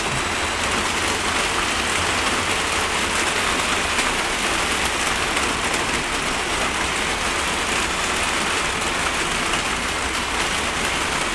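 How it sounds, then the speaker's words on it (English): Steady, heavy rain falls continuously, a dense even hiss of drops on surfaces with no pauses or voices. "I can hear the rain's getting a lot louder now."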